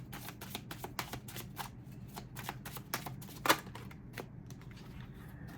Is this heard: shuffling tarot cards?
yes